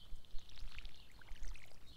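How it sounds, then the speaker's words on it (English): A watering can sprinkles crops in Stardew Valley, giving a soft, steady pouring patter with scattered bright droplet plinks over about two seconds, with no talking. "Go ahead and water these real quick"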